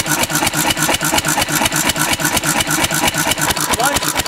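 A gas engine running on a mix of gasoline and rubbing alcohol chugs loudly and close by, with a steady, fast run of rhythmic firing pulses and no pauses.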